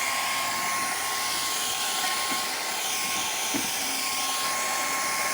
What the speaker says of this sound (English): get a hairdryer set on the intake.